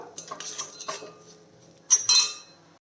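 A metal spoon stirs and scrapes spice powders being dry-roasted in a pan while making a raw mango dish, with a series of clinks and scrapes that grow louder near the end, heard up close with no talk.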